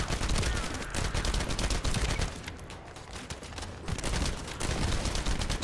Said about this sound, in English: It is like an LMG.